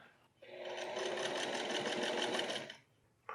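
A sewing machine runs in one steady burst of about two and a half seconds, stitching a quilted workwear vest. The whirring and rapid needle rhythm are close and clear, with quiet moments before and after.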